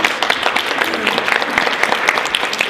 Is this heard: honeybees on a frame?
no